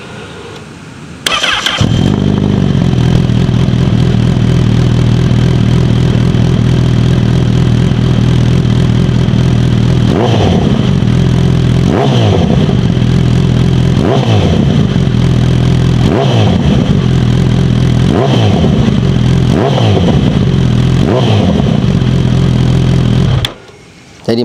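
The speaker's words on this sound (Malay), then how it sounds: "Jom kita dengar sikit bunyi dia macam mana." A Honda CB1000 SP four-cylinder motorcycle with a slip-on exhaust starts up loudly, idles with a deep steady drone, then is revved in a series of repeated sharp throttle blips before cutting off.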